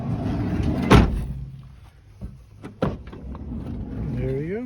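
The sliding side door of a 2006 Toyota Sienna is worked by a newly replaced door handle, giving a sharp latch clunk near the start and lighter clicks and a thud later, under quiet talk.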